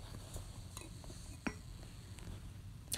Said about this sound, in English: Yes, I do a lot of whisking.